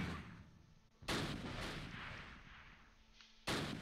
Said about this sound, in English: I think we might have got hit by a mortar